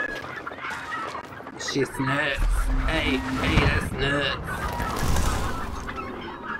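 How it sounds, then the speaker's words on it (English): A chicken in the video game Hunt: Showdown clucks and squawks in a frantic, rapid burst, mid-distance, mixed with game ambience while someone talks over it. "Chicken's going crazy."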